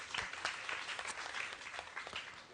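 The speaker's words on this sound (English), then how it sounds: "Mwatima Juma, a big round of applause to her." Soft, continuous clapping from a panel debate audience, fairly faint and steady, with individual claps occasionally standing out.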